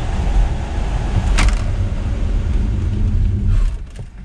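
Car driving on a wet race track, a loud, close, steady low rumble of engine and road noise with a brief swish midway, easing off at the end.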